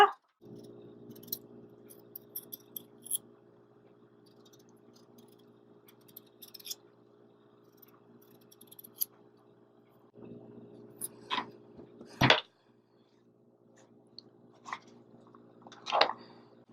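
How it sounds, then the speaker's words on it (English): A potato being peeled with a knife: soft, wet scraping and a few sharper cuts near the end, faint and close against a steady low hum, with no talking. "I'm going to use a knife because I find that I go much faster with the knife. So you're just going to peel your potato."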